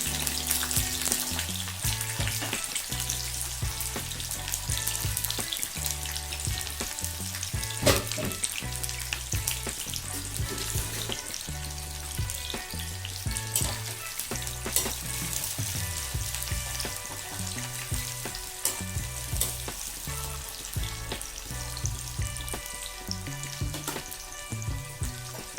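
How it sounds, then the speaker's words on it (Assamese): Chopped onions fry in hot oil in a pan, a steady loud sizzle and crackle running the whole time, with occasional stirring and clinks of a utensil against the pan. "কাটি থোৱা পিঁয়াজখিনি গৰম তেলত দি দিছোঁ।"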